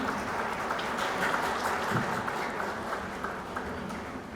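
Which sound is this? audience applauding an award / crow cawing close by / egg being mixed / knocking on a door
audience applauding an award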